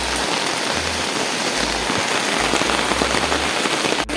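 Heavy flooding rain pours down in a dense, steady roar of drops hitting surfaces, loud and close, continuing unbroken from start to finish.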